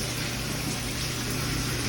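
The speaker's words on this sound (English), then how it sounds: "the water is running" Water from a hose or pipe pours steadily into a bucket held up off the ground, a continuous gushing splash with an even, unbroken flow and no voices.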